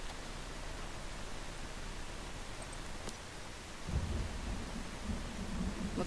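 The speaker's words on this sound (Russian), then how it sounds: "Пользуясь случаем, что есть дождь." Rain in the survival game Once Human, a steady hiss of rainfall with a low rumble of thunder swelling in near the end, no talking.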